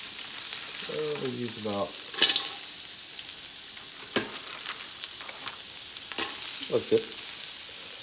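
Sliced carrots fry in a generous amount of oil in a pan for steak fried rice, giving a steady, close sizzle throughout with occasional stirring scrapes, while a person talks briefly over it.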